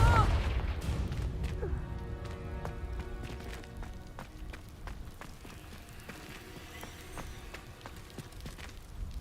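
A Confringo fire spell bursts in Hogwarts Legacy, opening with a loud booming blast over low rumble, then a scatter of sharp pops, cracks and impacts that fade into steady background noise.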